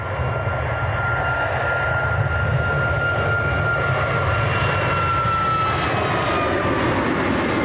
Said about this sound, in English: And this is Ryanair to Malaga.